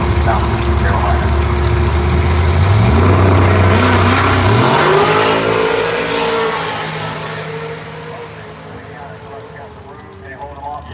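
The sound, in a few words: drag racing cars, 2006 Corvette versus Mustang, accelerating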